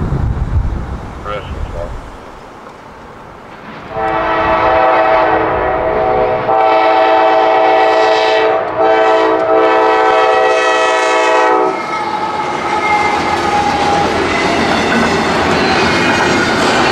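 A small CSX freight train throwing lots of smoke passes close by, sounding its horn in long sustained blasts with brief breaks, over a steady rumble and clatter of the rail cars.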